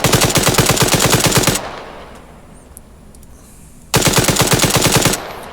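Rapid automatic rifle fire in the style of an AK-47 or AK-74, heard in the video game MechWarrior Online: two loud, fast bursts of shots, about a second and a half each, split by a quiet gap.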